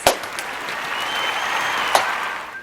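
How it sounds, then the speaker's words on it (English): A small group claps for a few seconds in a steady wash of applause, with a couple of sharper claps standing out near the start and middle, fairly close and with no speech over it. "Give yourself a round of applause."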